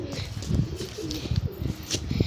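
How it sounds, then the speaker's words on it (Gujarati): Pigeons perched on a house rooftop give soft, low repeated coos in close succession, fairly near and continuous, with faint background noise. "अपने छत पर कबूतर बेही गयुं है।"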